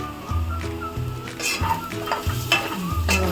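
Homemade red chilli spice masala roasting and being stirred in a pan for a Maharashtrian chana soyabean dish, with steady sizzling and repeated scraping strokes of a spoon against the pan, close and fairly loud.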